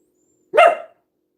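A single sharp dog bark, close and fairly loud, rising out of near silence and fading quickly.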